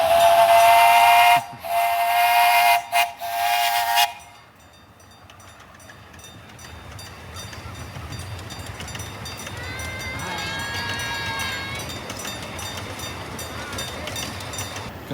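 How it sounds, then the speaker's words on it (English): An amusement park steam train passes nearby, a loud whistle blast at the start followed by a rumbling, hissing run of wheels and cars with a second, fainter whistle partway through. "It looks like just in time for a train to come through."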